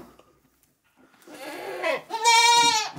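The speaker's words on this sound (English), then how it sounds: "Hey goats!" A goat lets out a wavering, nasal bleat after a short rustling noise, with a rougher cry just before it.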